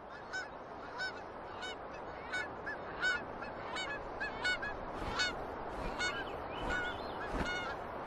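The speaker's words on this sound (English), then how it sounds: "As many as 140 million seabirds flock to Alaska's coast for the summer." Seabirds on the Alaskan coast in summer, a large colony with geese-like honking calls repeating steadily over a dense, constant background of many distant birds, no talking.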